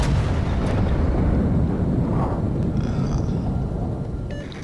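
Richelieu battleship main guns fire in World of Warships, a deep booming salvo with heavy rumble that rolls on and slowly fades, loud and alone.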